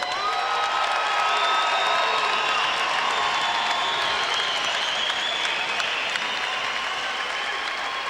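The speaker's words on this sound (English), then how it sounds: "how about a round of applause?" Sustained applause from a large crowd at a boxing match before the winner is announced, dense and steady clapping with occasional cheers and whoops mixed in, loud and continuous throughout.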